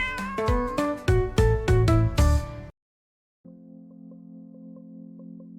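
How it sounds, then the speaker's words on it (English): Several loud, drawn-out cat meows in quick succession, then a short silence followed by a steady low hum. "Oh, your neighbor's cat."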